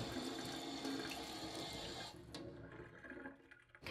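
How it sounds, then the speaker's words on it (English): Tap water runs steadily into a sink during a surgical hand scrub, then cuts off partway through, leaving quieter scattered drips and faint splashes close by with no talking. "Dripping is okay, because now back away from the sink"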